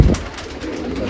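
Kalpat pigeons on a rooftop in Nashik give a short, close, throaty coo that fades quickly into soft background noise.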